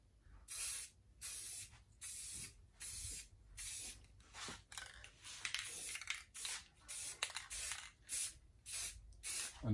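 Spray gun laying down clear coat on a bobber motorcycle part, a steady series of about a dozen close, loud hissing bursts, each lasting under a second and separated by short pauses.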